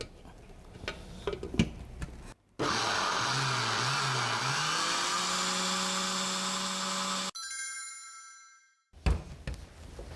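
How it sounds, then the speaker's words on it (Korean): Kitchen blender grinding vegetables such as broccoli into baby food, a loud high whirring drone that runs for about five seconds with a shifting pitch, followed by quieter clicks and handling sounds. "이번엔 야채만 한번 갈아 보겠습니다"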